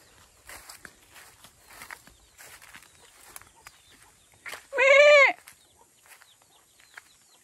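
Goats in tall grass, soft rustling steps through the grass, then one loud wavering goat bleat close by, with quiet surroundings.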